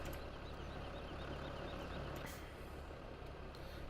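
A tractor engine droning steadily while driving in Farming Simulator 2017, a constant low rumble with faint clicks and a light ticking over the top, no talk.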